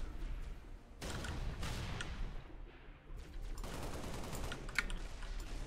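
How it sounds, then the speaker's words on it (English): Distant gunfire in the Halo Reach campaign, faint crackling bursts and rattling volleys in the background with no voices. "I don't know what they're shooting at, but they're shooting."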